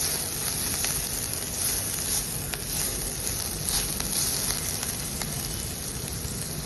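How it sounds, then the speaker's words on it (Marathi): Potato pieces fry in a pan with a steady, soft sizzle and hiss that carries on evenly throughout, close and fairly quiet, with no talking. "आपण त्याच्यामध्ये बटाटा घालणार आहोत हा थोडा फ्राय करून घेणार आहोत"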